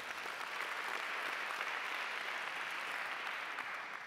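An audience claps for folk music ensemble members at an autumn literary gala, dense even applause that holds steady for several seconds with no voices over it.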